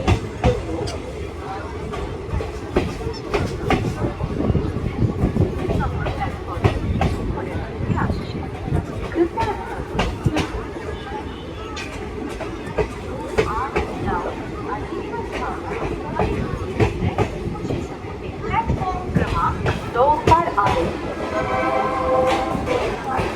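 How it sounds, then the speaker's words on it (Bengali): A passenger train pulling into Bolpur station in the morning, a continuous rumble and rattling of carriages heard from inside, with irregular clanks and squeals, under ongoing chatter and talk from passengers. "ট্রেন ঢুকছে বোলপুর স্টেশনে।"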